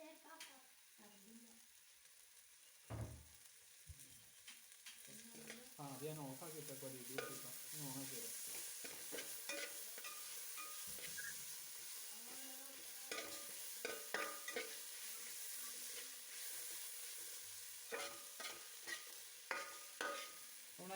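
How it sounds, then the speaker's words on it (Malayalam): Crushed ginger and garlic sautéing with onion, chili and curry leaves for tapioca biryani, a soft steady sizzle broken by repeated scraping and stirring strokes of a spoon against the pan, fairly quiet and close. "നമ്മൾ ഇഞ്ചി വെളുത്തുള്ളി ചതച്ചതും കൂടി അതിലോട്ട് ചേർത്ത് വഴറ്റിയെടുക്കണം"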